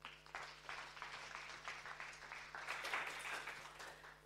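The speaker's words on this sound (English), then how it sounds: "Please, a big round of applause for both." Conference audience applauding steadily at a special session on UK industrial strategy, a dense wash of clapping from a hall crowd lasting several seconds at moderate, somewhat distant level.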